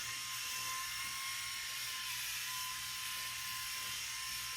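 A Freebird electric shaver hums close up with a steady high-pitched motor whine, constant and unbroken, with no voices.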